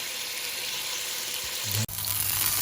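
Sambar masala cooking in a pan, giving a loud, steady close sizzle that runs almost unbroken, with a brief cut near the end before it resumes.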